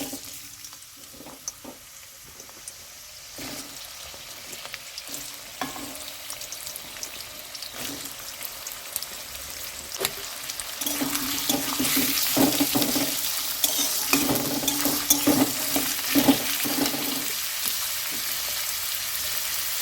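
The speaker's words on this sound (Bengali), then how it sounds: "কড়াই তেল দিয়ে দিয়েছি, এবার পেঁয়াজগুলো দিয়ে দেবো।" Onions fry in hot oil in a kadai for a spicy chicken curry, a close, steady sizzle that swells louder partway through, with rhythmic stirring scrapes and clinks and no talking.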